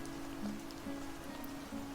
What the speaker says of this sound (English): The rain fell quietly